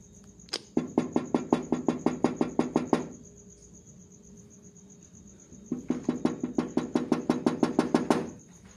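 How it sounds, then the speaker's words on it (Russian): Rhythmic knocking near a front door, heard as two fast bursts of evenly spaced, fairly loud sharp knocks separated by a quiet gap, over a steady high-pitched hiss. "Там слышатся ритмичные стуки."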